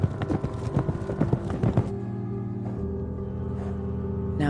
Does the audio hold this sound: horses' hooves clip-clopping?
yes